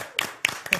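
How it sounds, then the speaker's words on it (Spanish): A man claps for himself in a quick burst of three sharp, close claps, with a short pause after the first. "Voy a aprovechar para aplaudirme"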